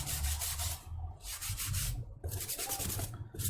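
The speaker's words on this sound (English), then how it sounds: "I'm just scrubbing this thing up. I'm aiming for the edges here where it's been sitting in the bay." Rhythmic rubbing and scrubbing on a MacBook Pro trackpad bay with isopropyl alcohol, concentrated at the edges, with steady strokes broken by short pauses, close and alone without talk.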